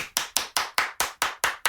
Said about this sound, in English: You know, do my clap.